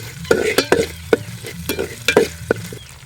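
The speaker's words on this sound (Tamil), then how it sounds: "வெங்காயத்தை நல்லா வதக்கி எடுத்துப்போம். இஞ்சி பூண்டு விழுது சேர்த்துப்போம்." Onions sautéing with ginger garlic paste in a pan over a wood-fired stove, with a steady sizzle broken by sharp scraping stirs of a spatula, about eight strokes in quick succession, close and with no talking.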